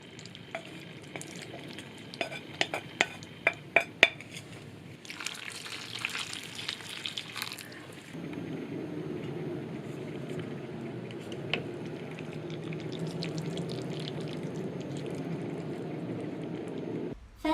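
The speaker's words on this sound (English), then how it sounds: "Sixth step, put the noodles and fried eggs and tomatoes in and add some water." Noodles with tomato scrambled egg cook in a pan: sharp clinks and stirring clatter come first, then water goes in and a steady sizzling, bubbling hiss carries on alone.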